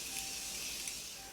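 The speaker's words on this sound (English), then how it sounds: "So I'm just gonna reapply a little bit of setting spray." Makeup setting spray misted during a soft glam makeup application, a quiet, steady fine hiss lasting about a second with a couple of slightly stronger puffs, heard alone and close.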